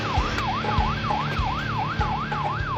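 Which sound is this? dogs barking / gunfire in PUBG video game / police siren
police siren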